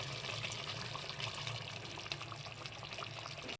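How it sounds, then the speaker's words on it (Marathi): Hot water is poured into a pan of chicken masala for biryani, giving a steady rushing, sizzling splash that runs continuously and close throughout. "थोडं गरम पाणी टाकूयात"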